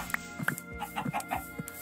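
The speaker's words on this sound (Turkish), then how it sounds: "Aa yavru civciv." A baby chick in the video game Minecraft gives a handful of soft, short clucks spread across under two seconds. They are faint and close, with no talk.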